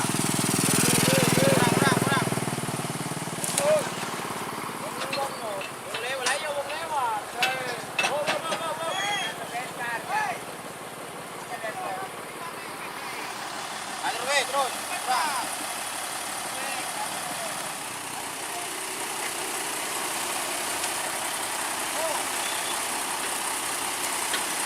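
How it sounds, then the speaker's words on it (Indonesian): A tractor's engine pushes a train of filled lorries along a plantation rail line, a steady motor drone that starts loud and close, then eases into a lower running hum with clanking and knocking on top. "traktornya ini mendorong rangkaian lori isian ini ya"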